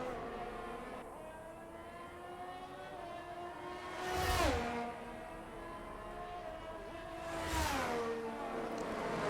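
Formula 1 cars in the F1 2022 video game race at Bahrain, their high engine whine running steadily as two cars sweep past in turn, each pass rising to a loud peak and dropping sharply in pitch.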